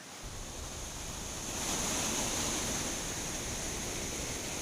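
Suruli Falls in Theni in flood, water rushing in a dense, continuous roar heard from nearby, steady throughout with a slight swell partway and no voices.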